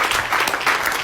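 A church congregation claps together in a brief, lively burst of applause, close and fairly loud, with uneven overlapping hand claps throughout.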